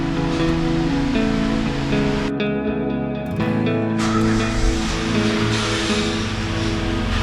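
Junkyard replacement engine idling in a Kia Sorento, a steady, close, loud drone with a brief dip in the upper hiss partway through and no talking.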